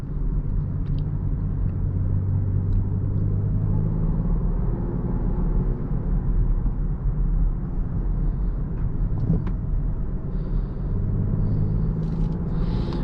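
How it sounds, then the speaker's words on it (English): Low, steady rumble of road noise heard from inside a moving 2018 BMW X5 xDrive35i, constant and muffled, with no voices over it. "The road noise in here is also quiet."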